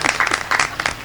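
Audience at a Hindi comedy poetry recital breaking into brief, lively applause, a dense burst of clapping that fades and swells again.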